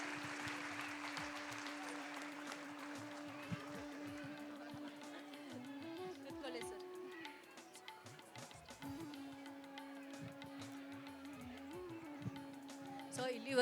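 Audience applause at a felicitation during an annual day celebration, a steady wash of clapping that runs throughout, with a sustained tone and some voices mixed in.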